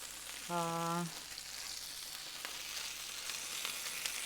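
Burgers sizzling in a pan, a continuous soft crackling hiss throughout, briefly overlaid near the start by a short tonal beep.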